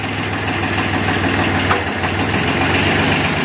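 A used Kubota L2000 tractor engine runs close by with a loud, steady, rough diesel idle, an even low throb and knocking texture throughout, and no talking.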